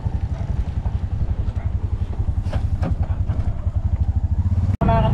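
A Bajaj RE three-wheeler tuktuk runs on a road near Tagaytay, its single-cylinder engine thrumming in a steady, rapid low pulse close up, with brief clatter and a short cutout near the end.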